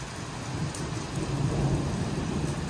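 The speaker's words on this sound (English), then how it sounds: "Well, there's some hard rain coming." Heavy rain pours steadily during a storm, a dense, even roar with a low rumble of thunder underneath, close and fairly loud.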